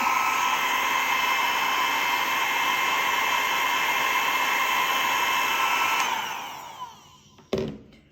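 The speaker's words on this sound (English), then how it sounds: "let me dry it a little bit with the dryer" A hair dryer blows with a loud, steady whooshing roar that winds down and cuts off near the end, followed by a short clatter.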